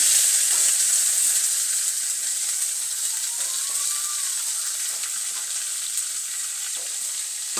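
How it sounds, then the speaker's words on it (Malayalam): Onions sautéing in a pan until brown for a tuna dish, a steady bright sizzle throughout with scattered scrapes and stirring clicks, close and loud. "ഇതൊന്ന് വഴറ്റിയിട്ട് ഇതൊരു ബ്രൗൺ കളർ ആയിക്കോട്ടെ കേട്ടോ."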